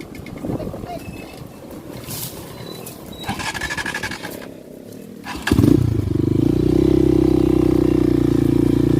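An off-road trail motorcycle, engine off, is bump-started by easing out the clutch: scuffling and talk give way to the engine catching and settling into a loud, steady idle drone for the last few seconds.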